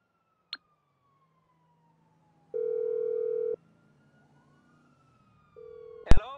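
In a PlayStation 4 video game, a steady electronic phone tone sounds for about a second, then a second shorter tone follows, set among sparse synthetic beeps and sweeping tones with no talk.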